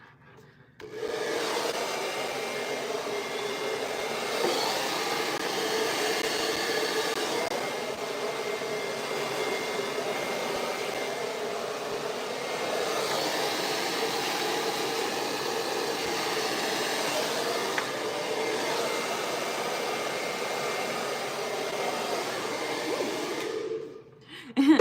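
A hair dryer blows on hair in a steady, loud whoosh that starts abruptly, runs continuously for over twenty seconds with slight rubbing variations, then cuts off at the end.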